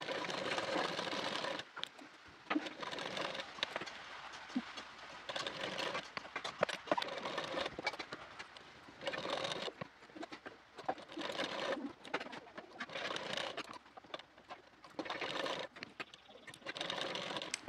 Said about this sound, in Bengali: মিডিল থেকে প্রথমে একটি সেলাই দিয়ে নেব